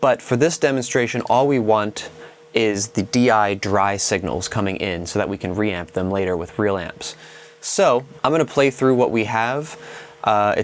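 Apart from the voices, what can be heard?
None of the usual background noises is heard.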